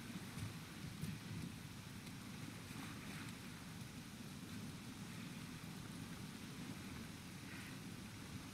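Rain falls steadily in The Last of Us Part II, a faint continuous hiss with soft pattering and distant low rumbles, no talking over it.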